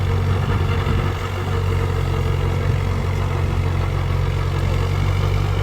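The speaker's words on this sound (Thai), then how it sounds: "เป็นรถไถอันนี้เป็น ล้อแท็กนะคะ" A high-clearance tracked sprayer tractor, converted from a farm tractor and raised on tracks, idles nearby with a steady, low, even engine hum and a faint mechanical clatter throughout.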